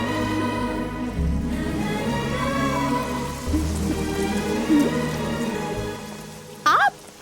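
Steady rainfall patters on surfaces in a continuous wash of drops, with music or tonal sounds beneath and a brief sliding tone near the end; no clear speech.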